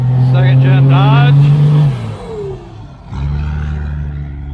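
A second generation Dodge truck engine revs loudly at a car show, a strong steady rumble that rises and then drops away as voices talk over it.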